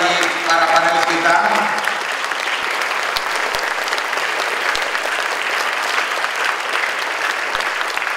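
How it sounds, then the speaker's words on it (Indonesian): Loud, dense applause from a conference audience for the panelists at the Indonesia Diaspora Congress, sustained for several seconds; a voice speaks briefly over the opening moments. "Mari kita berikan tepuk tangan yang hebat bagi para panelis kita."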